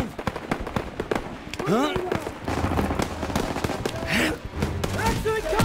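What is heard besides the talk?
gunfire in a video game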